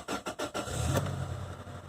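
A Toyota Tacoma engine starts after a few short cranking pulses, then settles into a steady, close idle hum.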